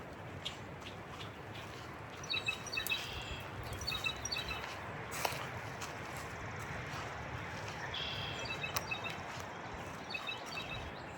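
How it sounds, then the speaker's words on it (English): Birds chirp in short bursts of high, bright calls scattered over a steady outdoor background hum, fairly faint and somewhat distant. "See if we can get some bird sounds."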